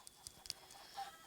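Minecraft PE chickens give a few faint, quick clucks in an uneven rhythm, soft and brief against near silence.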